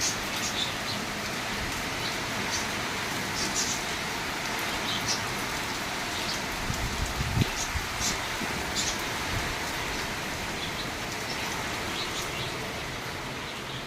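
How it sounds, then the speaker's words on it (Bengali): Steady, dense hiss of heavy rain falling continuously, with faint chirps of birds or insects scattered through the downpour. "এখন বেশি হচ্ছে বৃষ্টি।"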